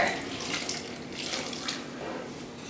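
Water streams steadily and continuously, splashing softly into flour in a container, with no voices.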